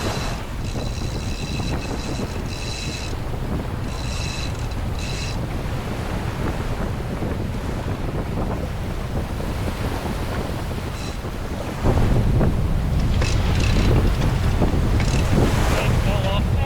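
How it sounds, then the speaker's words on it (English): Strong wind roars over open sea water off an Alaskan island, waves washing around, a constant heavy rush that grows louder and gustier near the end. "the wind really likes to hammer here"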